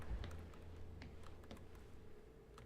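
Soft, rapid clicking of keys on a computer keyboard, a quiet, close patter of keystrokes over a low background hum.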